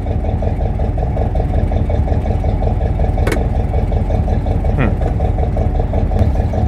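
A 1969 Mercury engine runs after its first start in 16 years, a loud, steady idling rumble with a fast regular pulse throughout and a couple of brief sharp clicks.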